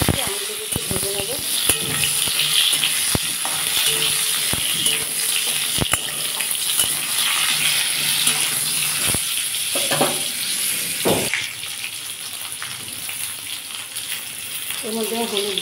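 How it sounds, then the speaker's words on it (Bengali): Mango pieces fry in hot oil with dry chilli and mustard seeds, a loud, close, continuous sizzle broken by stirring clatter, easing slightly near the end as a voice speaks briefly over it. "দেখুন আমগুলো দিয়ে দিচ্ছি, আমগুলোকে একটু ভেজে নেবো।"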